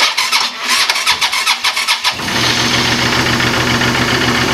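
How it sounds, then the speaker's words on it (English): A 2007 Suzuki SV650 race motorcycle on a cold day cranks with a rapid rhythmic starter whir for about two seconds, then catches and settles into a loud, steady, close engine idle. "The bike starts up super easy."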